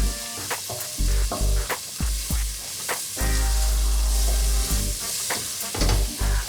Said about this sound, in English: At this point everything is cooking very gently so as not to burn.